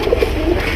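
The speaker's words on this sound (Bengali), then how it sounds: "এটা ইন্ডিয়ান কালদমি কয়" An Indian Kaldami pigeon at a pigeon farm gives a short, close, soft coo, heard alone.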